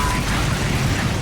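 A bomb goes off in a hectic video game match as a dense, continuous low rumble and roar. It fills the whole short moment with steady loudness and never fades out.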